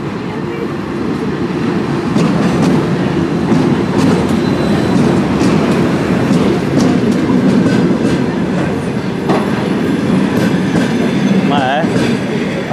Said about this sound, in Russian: Вот оттуда сейчас поезд поедет.